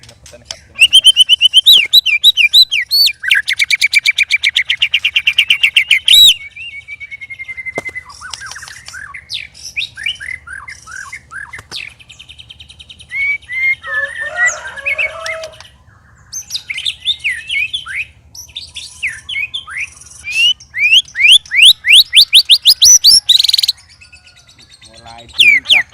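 A white-rumped shama (murai batu) sings loud, near, rich phrases of varied whistles, trills and chirps almost without pause, with a few short breaks and harsher squawky notes mixed in.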